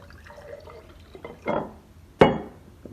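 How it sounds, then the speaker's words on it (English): Liquid polishing paste is poured into a glass jar, giving soft trickles followed by one sharper splash, quiet and close with no voices. "So now the next step is simply to pour this into the third jar"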